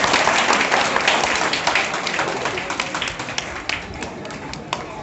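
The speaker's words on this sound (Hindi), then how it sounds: "भरपूर ताकतवर तालियां बजा दो।" A crowd at a welcoming ceremony honouring doctors for their lockdown service claps loudly and continuously, dense applause filling about five seconds and gradually thinning toward the end.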